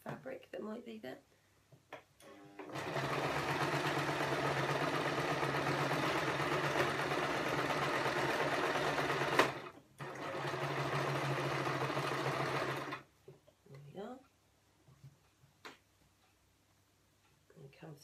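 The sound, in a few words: sewing machine stitching fabric for a shopping bag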